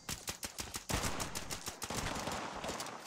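Gunfire from another player in Fallout 76, a rapid run of sharp shots at first, then denser overlapping bursts that blur into a continuous crackling barrage, moderately loud and fairly close.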